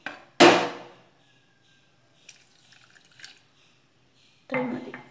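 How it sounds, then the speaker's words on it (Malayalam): Water is poured onto about four spoons of sugar in a pan on a lit stove, heard as a short splash and a later pour with brief drips and clinks between them. "കുറച്ച് വെള്ളം ചേർക്കണം."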